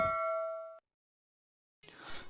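A single bright electronic ding of a bell-icon notification chime rings clearly and fades out, followed by silence and then a brief burst of noise.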